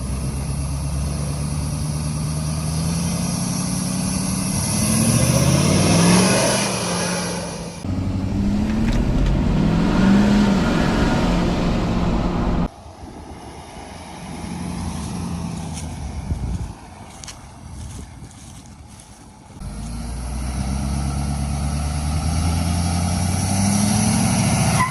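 A wrecked Ford 6.7 Powerstroke diesel pickup engine runs loud and close, surging up and down as it revs, cutting out abruptly, then starting again to a rougher rumble before settling back into a steady idle.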